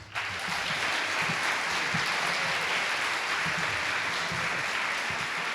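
Concert audience applauding in a school hall, a dense steady wash of clapping that starts abruptly and holds evenly throughout, with a low murmur of voices underneath.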